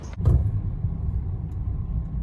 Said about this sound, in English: Gonna jump in the car with Courtney now